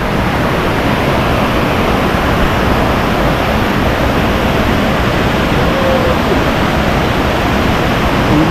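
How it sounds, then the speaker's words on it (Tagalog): Kinabuan Falls' main waterfall pours in a loud, unbroken roar of rushing water, close and steady from start to finish. "Yan ang main falls niya."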